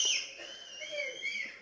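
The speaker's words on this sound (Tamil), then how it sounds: "கை தட்டி விசில் அடித்து கொண்டாடுறீங்க" Shrill, sustained whistles rise and waver from a crowd at a Tamil movie audio launch, bright and fairly close, with little clapping evident and no talk over them.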